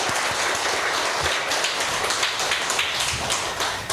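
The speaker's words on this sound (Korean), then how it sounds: "하나님께 영광의 박수로 한번 올려드리면 좋겠습니다." A church congregation in a Korean service claps in steady, dense applause that holds for several seconds, close and even, with no voices on top.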